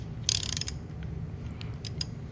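A puller tool is turned to draw the harmonic balancer off an LS engine crankshaft, giving short metallic ratcheting clicks in two brief bursts up close over a quiet low hum.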